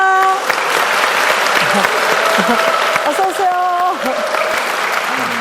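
Congregation in a Korean church applauding a guest called forward, a dense, steady wash of clapping that fills the whole stretch while a host speaks over it and soft tonal music runs beneath.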